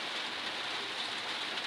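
Steady rain on a rainy day, a dense, even hiss that holds at a constant moderate level throughout with no voices or other sounds.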